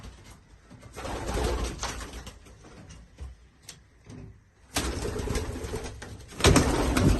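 Spanish pigeons in a coop coo repeatedly at close range, with soft rustling and occasional wing flutters between the low, rolling calls.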